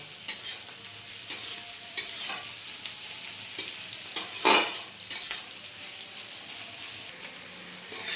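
About 300 grams of chopped onions sizzle softly in a pan for khichuri while a spoon stirs them in periodic scraping strokes, quiet and close, with no talk.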